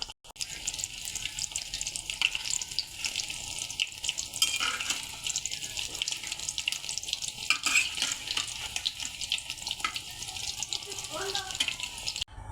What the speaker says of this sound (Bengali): এক এক করে ডালের বড়াগুলো দিয়ে দিতেছি তেলে।